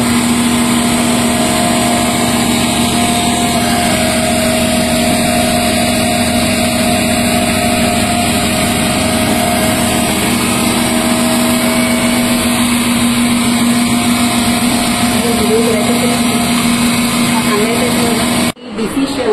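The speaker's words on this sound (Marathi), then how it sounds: "तर ही डीसी शंट मोटर आहे" A DC shunt motor runs steadily with a continuous electrical hum and whine, loud and unbroken for most of the stretch before cutting off abruptly near the end.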